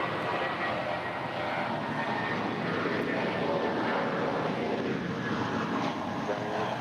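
A jet airliner rolls for takeoff on runway 25 right at Los Angeles International Airport, its steady, loud engine roar filling the whole stretch without letup.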